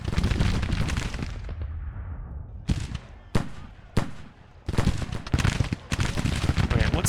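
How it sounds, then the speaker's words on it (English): Heavy musket fire against skirmishers rolls through a Grand Tactician Civil War battle: dense crackling volleys with sharp separate shots standing out, loud and close, and only brief lulls between bursts. "they've been firing off at skirmishers pretty heavily"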